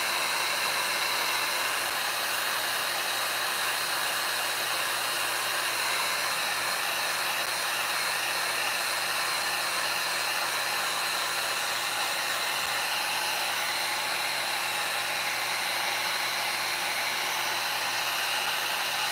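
A heat gun blows steadily for the whole stretch while wood is being burned with torch paste, giving a loud, even, continuous hiss with no other sounds.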